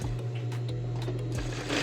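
Short burst of a sewing machine stitching a blouse collar edge, a close, even motor hum with fast needle ticking that runs without a break.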